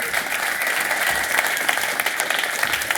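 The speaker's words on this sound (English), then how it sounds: "So please give them a massive round of applause." A conference audience applauding, steady dense clapping from many people that holds at an even level throughout.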